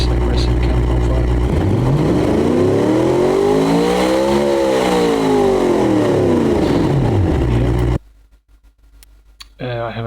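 In the game Automation, a Spyker C8-inspired supercar engine with an aggressive cam profile idles deep and steady around 900 rpm, then swells into a rising and falling rev with a sweeping tone before cutting off abruptly to near silence.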